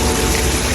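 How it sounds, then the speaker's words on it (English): Water pouring steadily down a waterfall feature at an Orlando resort on International Drive, a loud, dense, continuous gushing roar heard close up. "And there's like a waterfall area."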